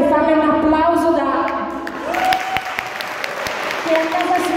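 Audience applause for singer Valentina at a charity soul music night, a continuous clapping crowd heard beneath a voice talking.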